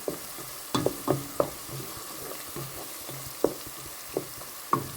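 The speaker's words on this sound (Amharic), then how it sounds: "አሁን እንግዲህ ካሮቱን በዚህ መልኩ ጠብሼዋለሁ።" Onions, leeks and carrots fry in a pan, making a soft, continuous sizzle under intermittent spatula scrapes and knocks, close by and fairly quiet, with no voices.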